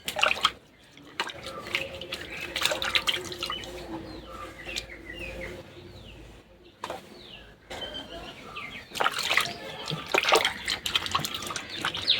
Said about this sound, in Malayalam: നമുക്ക് ഇതുപോലെ നല്ല വൃത്തിയായിട്ടൊന്ന് കഴുകിയെടുക്കാം